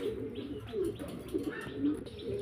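A female Andalusian pigeon coos softly and repeatedly, with low warbling calls close by and a few faint chirps in the background.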